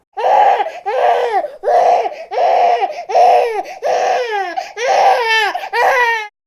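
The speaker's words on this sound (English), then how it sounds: "Your baby waking you up in the middle of the night." Baby crying in the middle of the night, a run of about eight loud wailing sobs in quick succession, the last few breaking and wavering, close and alone.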